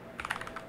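Quick, close-up keystrokes on a computer keyboard while entering a Linux terminal command on an Ubuntu-based system, a short rapid burst of light clicks with no voices.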